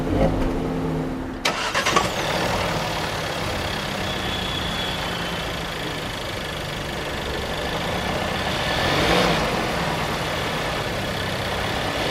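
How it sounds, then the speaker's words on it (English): A 2018 Audi A4 engine starting by push button: a quick crank catches near the start, then a loud, steady idle rumbles close by for the rest, with a slight swell near the end. "press the console mounted start button to go"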